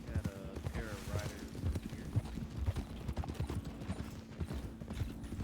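Horse hooves of a pair of riders in Red Dead Redemption 2 clip-clop steadily and close by, in a busy, continuous trotting rhythm with a low rumble beneath.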